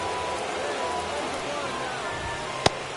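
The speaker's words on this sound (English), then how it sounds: "This rain is not letting up." Steady rain falling on a baseball stadium in MLB The Show 24, a continuous broadband hiss of rainfall with a single sharp crack near the end, while a commentator's voice runs beneath it.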